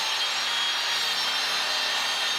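A new Rage 5S saw cuts through wood in a workshop, a loud, even, continuous rasping whine held close for the whole stretch.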